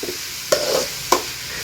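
Cabbage palya frying in a pan is stirred twice, each stir a quick scrape and rustle over a steady low sizzle that carries on between the strokes, close and alone.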